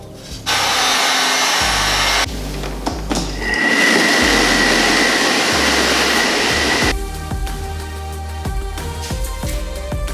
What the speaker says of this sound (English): We're going to get the heat gun going on this, get it drying out.